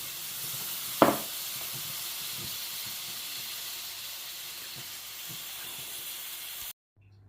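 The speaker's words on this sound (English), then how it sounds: "Let's take that off the heat, and it's boiling over." A pan of carp bait mixture made from Mountain Dew boiling over, a steady close hiss and sizzle with a sharp clatter near the start, ending abruptly.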